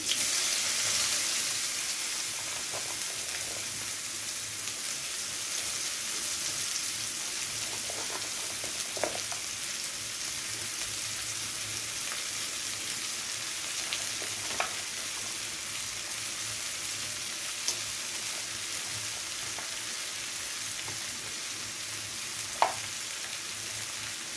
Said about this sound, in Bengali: ঘিটা গরম হয়ে গেলে পেঁয়াজের স্লাইস করে কেটে রাখা হাত দিয়ে একটু এইভাবে ছাড়িয়ে দিয়ে দিতে হবে।